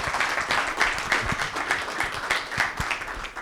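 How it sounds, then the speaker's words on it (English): An audience at a pensions industry event applauds, a steady wash of many hands clapping at close-to-moderate distance with no talk over it. "Round of applause."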